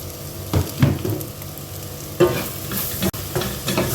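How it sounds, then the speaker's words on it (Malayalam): Spice powders sautéed in oil for a Thrissur-style Kerala beef and banana dish: a steady close sizzle with several scraping stirs of a spoon against the pan, no voices. "ഇനി നമുക്ക് ഈ പൊടിയുടെ എല്ലാം പച്ചമണം മാറുന്നത് വരെ നല്ലപോലെ ഇതിനെ വഴറ്റിയെടുക്കാം."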